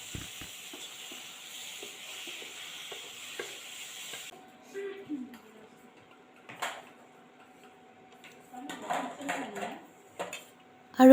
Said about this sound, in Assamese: মই এতিয়া ভালকৈ লাৰি আছোঁ আৰু আপোনালোকে এনেকৈ লাৰি থাকিব আৰু ভালকৈ সিজিবলৈ দিব